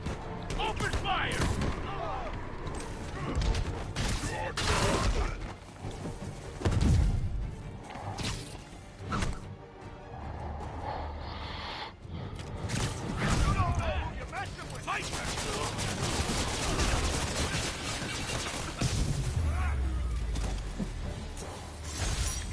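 Gunfire from thugs in Marvel's Spider-Man Remastered, with crashing, smashing and whooshing combat hits. Bursts of shots run through dense, constant action noise while someone talks over most of it.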